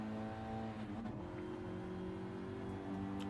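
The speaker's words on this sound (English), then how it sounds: "Luke literally needs to be taking paint off of Cutler's rear end as they come round that final hairpin" Ford Focus Cup race cars lapping Tsukuba Circuit, a steady loud drone of several engines holding tone through the final hairpin, pitch shifting slightly as they exit, with faint tyre noise and no talk.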